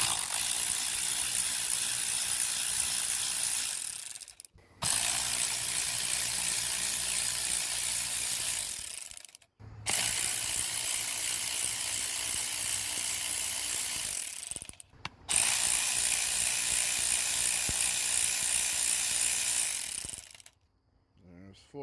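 A ratchet wrench loosens 10 mm bolts on a Nissan QR25DE 2.5L engine's oil cooler, in four long bursts of rapid, close metallic clicking, each separated by a short pause.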